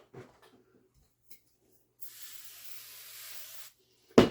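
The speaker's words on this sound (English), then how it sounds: "I'm probably going to starch it again or spray size it again" A single steady hiss of spray starch from a pump bottle onto fabric lasts about two seconds, followed by a sharp thump.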